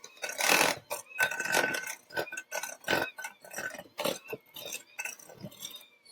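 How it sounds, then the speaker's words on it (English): A spoon works through thick cookie dough in a bowl, giving irregular scraping and clinking strokes in quick bursts with short pauses between them. "Give it a mix. So it's a pretty thick dough."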